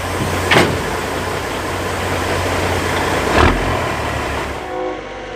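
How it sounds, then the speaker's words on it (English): A train rolls past with steady broadband rumble and clatter, sharp bursts near the start and middle, then fades toward the end; no voices. "Well, hello, choo-choo train."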